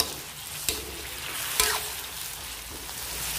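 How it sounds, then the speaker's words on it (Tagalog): Peeled eggplant sautés in a pan with a soft, continuous sizzle, broken by two sharp clacks of a utensil against the pan, all close and with no one talking. "Parang parang igisa ko muna siya."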